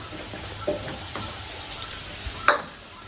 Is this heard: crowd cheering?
no